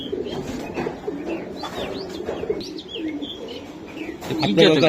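Tournament racing pigeons cooing and chirping, repeated throaty coos with brief high chirps nearby, a louder rustle at the end and a voice talking underneath.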